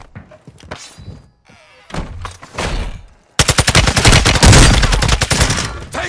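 Warzone gunfire in the Vondel map, starting with scattered sharp shots and thuds, then a loud, close, rapid automatic burst with dense rhythmic reports.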